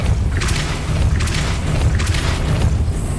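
The Depulso spell being cast in Hogwarts Legacy, booming magical blasts that thump loudly over a heavy low rumble, with several bursts repeating about every second or so.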